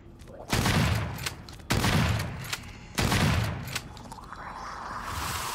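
Gunshots in the video game Daymare 1998: three loud, booming shots spaced about a second apart, each followed by a decaying rumble, with no talk over them.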